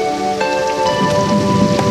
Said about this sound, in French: une pluie chaude et bienfaisante se mit à tomber